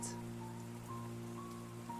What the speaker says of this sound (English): The rain is falling on the keys